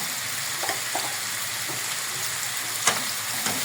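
Garlic drops into a pan where sausage is already browning for a sausage and potato tagine, and a continuous even sizzle follows with a few faint stirring knocks, close and steady, with no talking.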